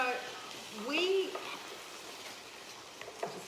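Huevos rancheros sizzle in a pan while being stirred, a soft crackling fry with a few scraping touches, briefly overlapped by a voice, then settling into a faint, steady sizzle.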